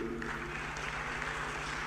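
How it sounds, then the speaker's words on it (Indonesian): Audience applause at a televised Indonesian political forum with presidential candidate Ganjar Pranowo, a dense steady clatter of clapping filling the whole short stretch at moderate level without talk. "Tepuk tangannya meriah"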